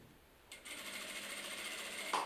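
A sewing machine starts up and runs a quick, continuous buzzing stitch while sewing bias tape onto a party or bridal dress, close and moderately loud, with a small click at the end.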